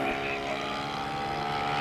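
Aerobatic model aeroplane flying at a 1994 model show in Telford, a steady loud engine drone with a continuous buzzing whine that holds level throughout, no voices over it.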